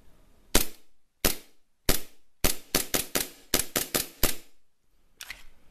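A WE Samurai Edge M92 airsoft pistol fires indoors: about a dozen sharp, close snapping shots, first spaced apart, then in a quick irregular burst, with nothing else heard between them.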